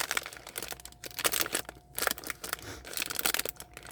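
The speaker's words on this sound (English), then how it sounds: "sorry about the crinkling" Plastic packaging from a dollar store crinkles and crackles in close, irregular bursts of handling, loud and alone without any speech.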